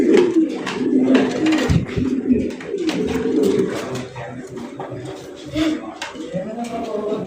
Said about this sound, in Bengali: এই দামে আপনারা এই এত সুন্দর কবুতর আপনারা কোথাও কিন্তু পাইবেন না